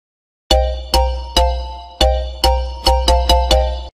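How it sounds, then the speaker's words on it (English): A mobile phone ringtone or message alert: a bright chiming tone repeats eight times at a quick, steady pace, each chime decaying before the next, loud and close. "It's my phone. I must answer."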